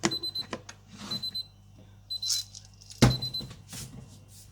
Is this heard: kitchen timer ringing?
yes